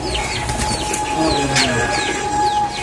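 Pigeons in a loft coo softly and repeatedly, close by, with a few higher bird calls and a brief flutter of wings mixed in over a steady background hum.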